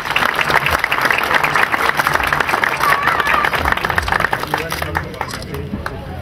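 Loud, sustained audience applause at a children's festival plaque presentation in Akseki, Antalya, a dense rapid clapping that carries on strongly before easing slightly toward the end, with faint crowd voices beneath.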